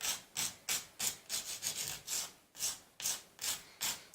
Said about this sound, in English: I just clipped off that end here, sanded the rough edges away